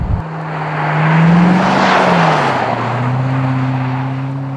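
A car slides at high speed around a frozen ice-driving circuit, its engine droning loud and steady with shifting pitch as the tires hiss across the ice, no voices.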